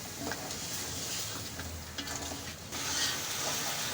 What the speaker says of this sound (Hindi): मटन की हम भुनाई करेंगे अच्छे से